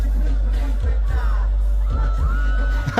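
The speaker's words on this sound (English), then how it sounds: "The shorties is screaming." A concert crowd screams loudly at a show in Chile, a dense, constant roar of high voices with repeated bass thumps from the music underneath.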